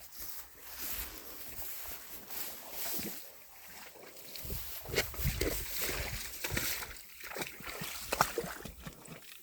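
A horse wades into water, with irregular splashes and sloshing that grow louder and more frequent in the second half, heard close over a low outdoor rumble.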